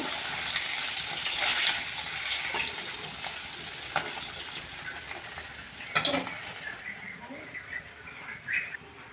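Fish fry in hot oil with a steady crackling sizzle, joined by occasional scrapes and clinks of a utensil and a couple of louder spits toward the end.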